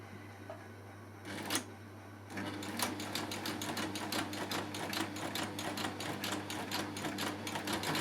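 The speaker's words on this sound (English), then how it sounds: "As you see, I stitch quite slowly when I'm doing this." A Baby Lock serger with a lap seam folder does a cover stitch at stitch length 3 and medium-low speed. After a short pause and a click, it starts up and runs in a quick, even, rhythmic chatter, close and clear.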